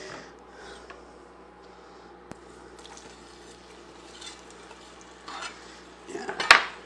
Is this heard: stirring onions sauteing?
yes